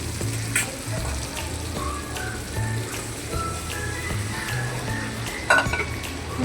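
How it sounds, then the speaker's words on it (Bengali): Boiled chickpeas and potatoes tipped into a pan of frying spiced masala, a dense close sizzle and crackle with soft stirring knocks and one sharp clink near the end, no talk. "এবার দিয়ে দেবো ছোলা আর আলু"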